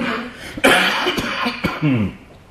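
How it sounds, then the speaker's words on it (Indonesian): A person coughs a few times close by, with throaty, rough bursts spread across a couple of seconds. "ini batuk ya"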